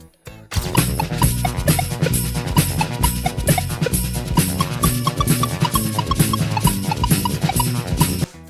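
Bouncy, squiggly synth-heavy instrumental music, a 1972 hit, with a steady driving beat and a bright plucky melody, loud and continuous throughout.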